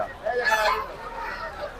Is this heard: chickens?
yes